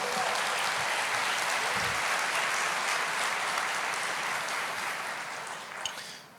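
A church congregation applauds during a sermon, a dense loud wash of clapping that holds steady and then gradually fades toward the end.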